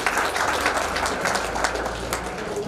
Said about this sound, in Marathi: याला टाळ्या वाजवा